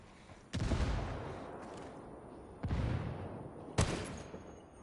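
Three heavy blasts from a grenade and gunfire in a military shooter game hit at irregular intervals, each a loud, sudden boom trailing into a rumbling decay.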